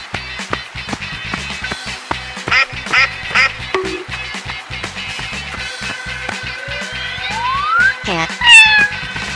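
Duck quacks sound over a cartoonish musical backing, mixed with other short animal-like calls and rising sweeps, loud and up close.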